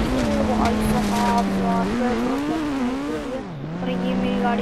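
A motorbike speeds along in the Indian Bike video game, its engine a loud, continuous, high-pitched drone whose pitch wavers, dips sharply and then climbs again as it revs.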